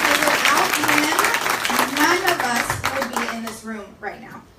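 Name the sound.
audience applause for Chad Chong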